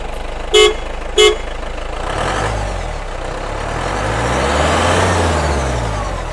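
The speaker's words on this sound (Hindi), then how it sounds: "मैं आपको गाड़ी ऑन करके एक बार अभी हॉर्न सुनाऊंगा" A modified Mahindra Classic gives two short, sharp horn beeps in quick succession, then its engine rumbles and revs up close by.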